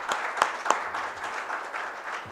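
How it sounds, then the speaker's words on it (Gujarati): An audience applauds a group at a programme dedicated to the late Shri Lallubhai Patel, a moderate burst of many hands clapping, with a few sharper claps near the start before it settles into a steady patter. "એટલે એક સરસ તાળી આ ગ્રુપ માટે, શરદભાઈ માટે અને કિરણભાઈ"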